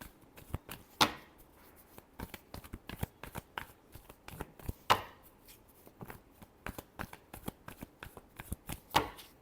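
A tarot deck is shuffled by hand in a series of sharp, irregular riffles and slaps, close and fairly quiet, with no talking.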